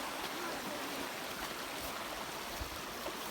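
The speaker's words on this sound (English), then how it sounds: "We're finding a way to cross the river here." A river flows steadily, a dense, even rush of water heard up close with no break and no talk over it.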